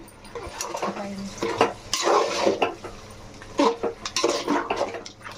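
Chicken being stirred in a pan for a curry, with repeated scraping and clinking of a utensil against the metal in short bursts, close and fairly loud.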